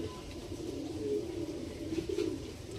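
Andra Lal Shila pigeons coo in a few soft, throaty pulses close by, over a low background hum, with no talk.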